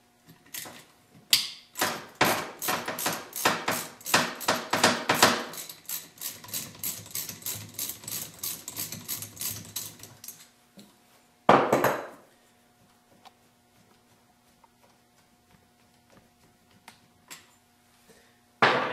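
A ratchet wrench loosening a 10 mm bolt on a transmission speed sensor, giving a close, rapid series of sharp clicks for about ten seconds, then one short burst of clicking and near quiet.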